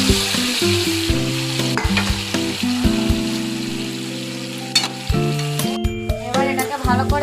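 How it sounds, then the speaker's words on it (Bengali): Stingray pieces hit hot oil with tomatoes in a kadai and sizzle loudly and continuously, with stirring scrapes and a melodic music track playing underneath. "কড়া শঙ্কর মাছগুলোতে ছেড়ে দেবো।"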